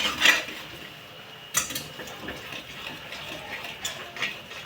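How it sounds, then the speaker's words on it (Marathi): A spoon scraping and clinking against a pot while stirring rice kheer, a few sharp metallic taps over a soft background of faint scraping. "मिक्स करत आहे."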